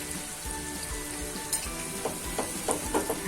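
Garlic ginger paste sizzling in a hot pan for a doodhi (bottle gourd) curry, a steady soft frying hiss with faint stirring scrapes, low and close, no talk.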